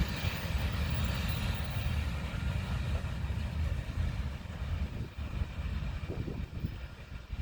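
A freight train led by three SD70ACE locomotives and an AC45C rumbles past at Rochelle, Illinois, a steady loud low roar of engines and rolling cars that continues throughout with no break.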